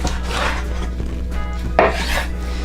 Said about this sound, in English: I'm going to cut this about ½ inch thick